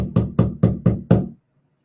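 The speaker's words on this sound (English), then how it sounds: "you knocking on my door" Six firm, evenly spaced knocks on a door in quick succession, close and solid, then sudden silence.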